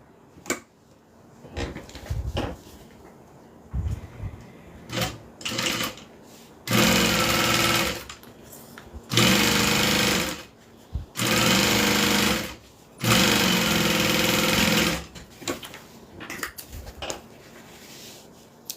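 A sewing machine stitches a zipper into a Teresita train case, running in several loud bursts of a few seconds each, separated by pauses filled with quiet handling and clicking.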